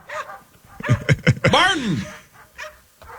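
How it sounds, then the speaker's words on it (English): Dogs bark and whimper in the background of a phone call, a few sharp yaps followed by a longer whining bark, mixed in with talking. "The dogs are chasing him."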